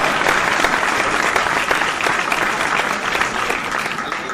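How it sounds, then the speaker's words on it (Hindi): A dense, steady wash of audience applause fills a Hindi poetry recital, with many hands clapping at once at a constant level and no voice above it. "कल राकेश दांगी को बजाना, आज तो मजे से प्यारे तालियां बजाइए"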